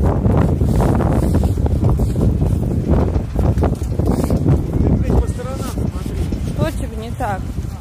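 Strong outdoor wind in Russia buffets the microphone in a continuous loud, low roar, and a voice speaks briefly beneath it toward the end.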